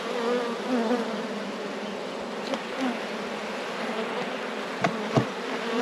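Honey bees hum in a dense, continuous drone around an open hive in a productive apiary, close and steady, with a few faint clicks and knocks from the frames.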